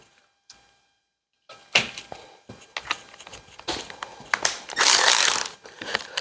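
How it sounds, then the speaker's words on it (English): An electric ratchet with a 5/8 socket, heard as a series of sharp mechanical bursts building to a sustained whirring run near the end, close and loud, with no talk. "I got the electric ratchet here. 5/8 on that."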